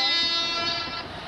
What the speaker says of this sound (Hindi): भाई लगता है किसी ने हॉर्न बजाया